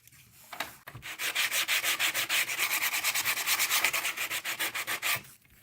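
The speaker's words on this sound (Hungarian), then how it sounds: "Csak hogy ha szorul, akkor le kell belőle csiszolni egy nagyon keveset" Steady rhythmic sanding of a wooden model aircraft fuselage part, from the Hattyú model build: quick back-and-forth rasping strokes, close and loud, running continuously for about four seconds with no talking.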